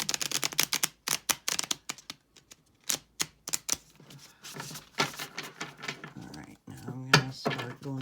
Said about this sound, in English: So get the cards shuffled.